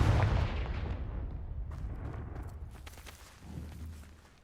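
A Confringo fire spell blasts in Hogwarts Legacy, a loud booming burst that starts hard and rumbles away over a few seconds, with a second lower thud near the end.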